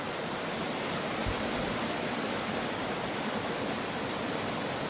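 Cascading water of Porter Creek rushes beside a hiking trail in a steady, close, broadband roar with no pauses and no voices.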